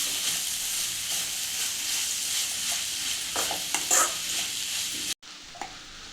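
Grated raw mango and onions stir-fried in a pan for mango chitranna: steady close sizzling with scraping stirs, ending in a sudden cut to near silence and a quieter sizzle.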